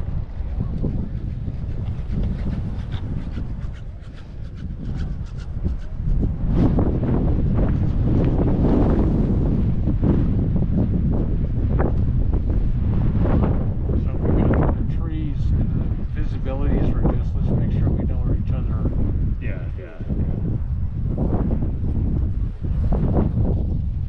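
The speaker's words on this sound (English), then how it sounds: "The wind" Strong wind buffeting the microphone at a ski resort chairlift, a continuous loud roaring rush with gusty surges throughout, and a voice faintly present beneath it.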